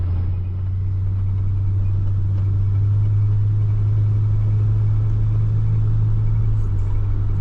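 Loud, steady low engine drone from a 1978 Dodge Ram crew cab truck under way, a constant close rumble with a slowly rising hum and no talk.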